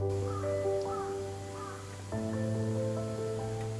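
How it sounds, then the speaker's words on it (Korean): Crows caw repeatedly, a few harsh calls spaced apart over a steady outdoor hum along a walking path, with no talking. "지저귀는 새들의 소리가 가득한 이곳은"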